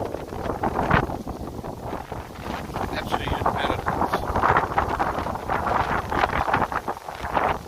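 Strong wind buffets the microphone in continuous roaring gusts, with a person speaking briefly over the rumble outdoors in a rural Philippine village.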